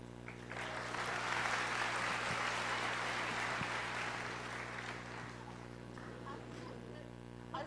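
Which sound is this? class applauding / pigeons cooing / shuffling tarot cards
class applauding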